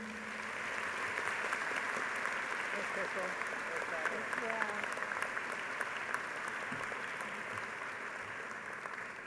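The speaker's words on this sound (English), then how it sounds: "I invite everyone to join with me in giving these students a round of applause" At a Simon Fraser University fall convocation ceremony, an audience gives graduating students sustained, even applause, a continuous wash of many hands clapping, with faint voices briefly audible underneath.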